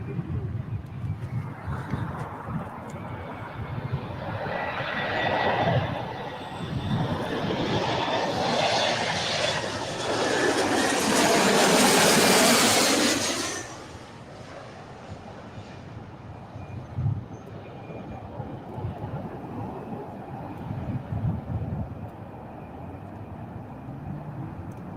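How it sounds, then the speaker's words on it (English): An Embraer jet passes near LAX, its engine roar swelling over several seconds into a loud, close peak before dropping sharply away, with a faint voice and outdoor background noise around it. "Got the Embraer."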